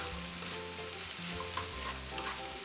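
Leftover rice being stir-fried for takeaway-style special fried rice, a steady close sizzle with soft tossing and scraping of the pan, continuous for a few seconds with no talking.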